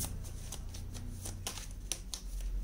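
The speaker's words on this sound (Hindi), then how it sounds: "सो कार्ड्स निकालते हैं।" Tarot cards shuffled and drawn by hand, a run of soft close flicks and riffles in quick succession, quiet, with no one talking.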